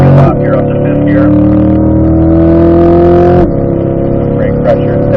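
A car's engine drones loud and close on a track lap, rising steadily in pitch as it accelerates, then dropping sharply at a gear change before climbing again, with someone talking over it.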